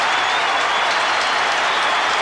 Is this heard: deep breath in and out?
no